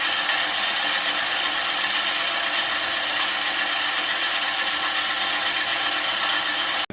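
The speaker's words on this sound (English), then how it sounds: "blades grinding, and as they spin, it's basically sharpening both the blades and the bed knife" Reel mower blades spin against the bed knife while being backlapped with grinding compound, producing a loud, continuous abrasive rasping whir that holds steady throughout before stopping abruptly at the end.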